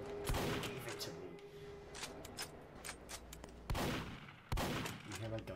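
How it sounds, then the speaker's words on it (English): Gunfire in Roblox: a run of rapid, sharp shots crackles in bursts, with several louder bangs standing out. Some background game noise is faintly mixed in. "You hear my gunshots?"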